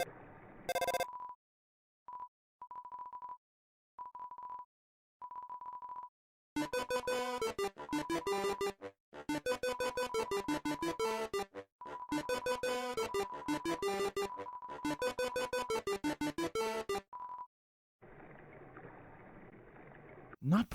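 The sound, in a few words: mysterious phone call audio in Undertale video game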